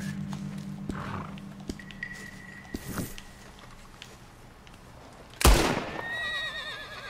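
A horse neighs a few times amid game noise in Red Dead Online, with a sudden loud burst midway followed by a shrill, wavering whinny near the end.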